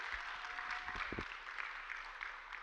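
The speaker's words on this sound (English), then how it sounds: "So can everyone give them a round of applause?" Faint, thin applause from an audience honoring youth panelists at a high school mental wellness teen chat, a light patter of clapping held at a distance across the whole stretch.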